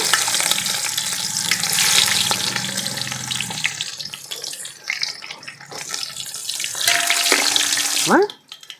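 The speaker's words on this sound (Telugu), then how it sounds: "ఆయిల్ కాగుతుండగా ఇవన్నీ ఇగో ఈ మసాలా దినుసులన్నీ స్టార్ పువ్వు మరాఠీ మొగ్గ చెక్క లవంగాలు ఇవన్నీ వేసేసాను" Star anise, cloves, cinnamon and other whole spices crackle with onions in hot oil for a chicken biryani, a loud close sizzle that swells and eases, then cuts off sharply near the end.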